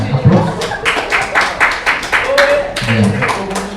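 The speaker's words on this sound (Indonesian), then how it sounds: "Tepuk tangan yang keras ya" A class of students clapping in a classroom, a burst of many quick, irregular claps that continues steadily throughout, with voices speaking over the applause.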